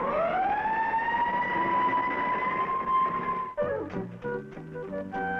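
An Army fire engine's siren wails in a long rising and steady tone as the truck pulls out, then cuts off abruptly into rumbling engine and clattering vehicle noise.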